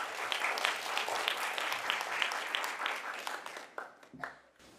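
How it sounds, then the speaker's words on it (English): Audience at a grade 4 speaking contest final applauding a speaker onto the stage, a dense, loud wash of clapping that thins out and fades near the end, followed by a brief voice. "Let's give a round of applause for Ray."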